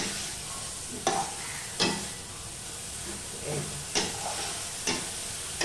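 Mashed banana flower with poppy seed and green chilli being stirred in a hot pan, a steady close hiss and sizzle broken by periodic scraping strokes of the spatula, no talking.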